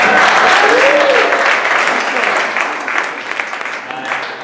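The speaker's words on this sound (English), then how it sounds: "Another round of applause for kids." An audience at a SermonSLAM spoken-word event in Pittsburgh bursts into loud, close applause with a short whoop-like cry, the dense clapping thinning into scattered claps and murmuring voices.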